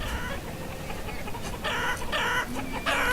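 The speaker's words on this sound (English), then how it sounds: "So many chickens." Chickens cluck in a Banished village: a steady flock murmur with several louder, repeated clucks rising over it, moderately near and without speech.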